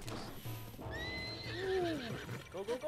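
A horse in a Zelda video game whinnies in a rising then falling cry, close and clear, with faint hoof clatter and a short second neigh at the end.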